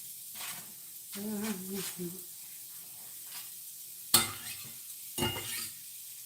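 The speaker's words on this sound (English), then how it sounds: "Just going to put the shallots and mushrooms in all at the same time." Shallots and mushrooms frying together in a hot pan for a beef Wellington filling: a low, steady sizzle runs under the clip, broken by a few sharp clatters and stirring scrapes near the end.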